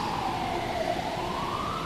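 An ambulance siren passes outside with a steady, sweeping wail that slowly rises in pitch, heard continuously at moderate loudness with no talk over it.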